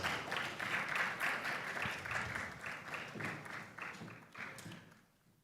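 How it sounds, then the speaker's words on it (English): An audience at a gender and poverty panel claps for a speaker, a fairly quiet, uneven patter of hands with individual claps standing out, fading away into silence near the end. "Please clap for her, you can do better."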